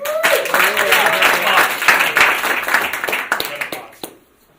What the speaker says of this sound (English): can we give another round of applause for comedic timing?